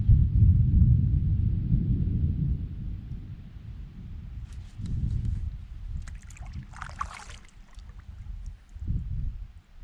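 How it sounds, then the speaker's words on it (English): Distant thunder rolling over a Canadian wilderness lake during a canoe trip, low rumbles swelling and fading amid wind noise, with faint paddling or splashing sounds and no talking. "thunder in the distance. That weather is moving in on us."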